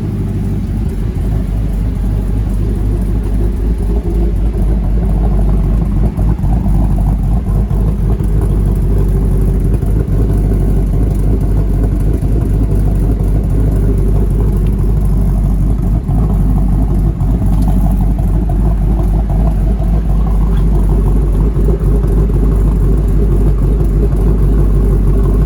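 A 2014 Ford Mustang GT with a Ford Performance tune rumbles loudly and steadily nearby, its engine held at raised revs in a continuous droning roar with no talk.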